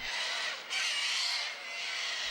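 Sanguine cockatoos, large crested Australian birds in a flock, give harsh, raspy screeches that run almost continuously and loudly over a couple of seconds, with no voices.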